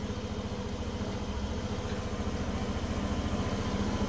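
A Suzuki Burgman Ex scooter engine idles steadily nearby with a fast, even low putter and no ticking, its drain plug having been broken.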